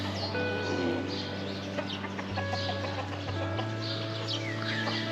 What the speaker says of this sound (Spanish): las gallinas y los gallos